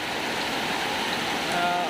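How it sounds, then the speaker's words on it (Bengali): Heavy morning rain falling in a town, a dense steady hiss of downpour that fills the air evenly and stays loud and unbroken throughout. "প্রচুর বৃষ্টিপাত হচ্ছে"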